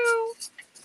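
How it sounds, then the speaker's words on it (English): A cat gives one clear, tonal meow, followed by faint scattered noises in a quiet room. "The kitty's back."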